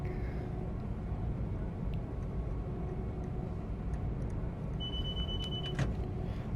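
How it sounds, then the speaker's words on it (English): A driver vigilance device alert sounds in a Class 380 train cab in Train Sim World 4: a sustained high electronic tone rises over the steady low rumble of the moving train, ending with a sharp click. "Nice driver safety device sound. Sorry, DSD sound. No, I'm such an idiot. Driver vigilance device sound."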